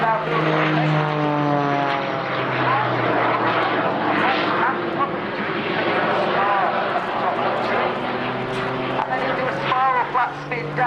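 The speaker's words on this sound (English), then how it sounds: "This aircraft can turn and ascend," A Jet Pitts aerobatic biplane performs at an air show, its loud engine droning continuously and close by with shifting pitch as it turns and climbs, while a commentator talks over it throughout.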